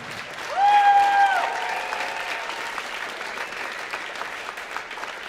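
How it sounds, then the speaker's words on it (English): An audience at an honor band concert claps and cheers, starting with loud whoops and shouts over a burst of applause that settles into steady clapping. "students, I think you should clap for your parents one more time and cheer real loud for them"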